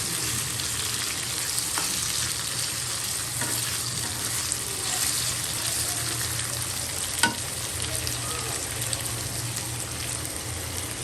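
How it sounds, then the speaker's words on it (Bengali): Dried fish (shutki) sizzles steadily in a hot pan, a loud continuous frying hiss with occasional stirring scrapes and one sharp clatter near the end, with no talking. "এই তো এইদিকে শুটকি ভাজা হচ্ছে, শুটকি ভাজা হবে এখানে।"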